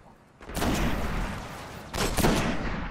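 Rifle fire in the Destiny video game: two loud bursts of shots, each a rapid cluster of cracks with rumbling tails, the second about a second and a half after the first.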